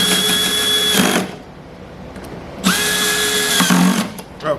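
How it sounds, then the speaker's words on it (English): Power screw gun driving 7/8 flathead machine screws into an anchor locker mount, two loud close bursts of whirring motor, each about a second long, separated by a quiet pause. "Okay, and to speed it up, I'm just going to run it down with a gun real quick."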